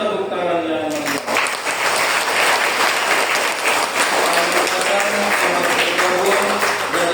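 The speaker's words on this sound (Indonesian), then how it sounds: "Kita sambut dengan tepuk tangan yang meriah" Congregation applause for the newly baptized at a baptism and first communion Mass in St. Augustine church, a steady dense clapping that runs through the whole stretch, with a voice at the start.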